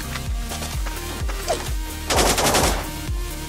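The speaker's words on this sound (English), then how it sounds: "Someone shot me in the back." Rapid, punchy gunfire in the blocky shooter Blockpost, loud and close in regular bursts of repeated thumping shots, with a denser burst of noise partway through.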